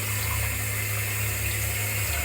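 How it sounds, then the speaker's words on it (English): Warm water pours steadily from a bathroom sink tap during a face rinse in a skincare routine, a close, even rushing hiss that holds constant throughout with no voices. "Take some warm water, rinse that off."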